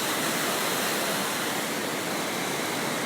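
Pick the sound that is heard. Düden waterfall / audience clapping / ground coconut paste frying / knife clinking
Düden waterfall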